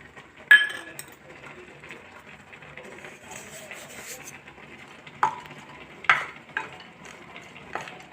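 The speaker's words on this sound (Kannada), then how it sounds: "ಡ್ರೈ ಫ್ರೂಟ್ಸ್ ಎಲ್ಲ ಹಾಕಿ ಫಸ್ಟು ಫ್ರೈ ಮಾಡ್ಕೊಳ್ತೀನಿ" Dry fruits fry in hot ghee in a stainless steel kadai, giving a soft steady sizzle broken by a few sharp clinks of a spoon or ladle against the metal pan.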